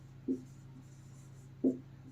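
During a class 9 maths lesson on rational and irrational numbers, a board marker or chalk makes two short, faint strokes on the board about a second apart, with a low steady hum in the room.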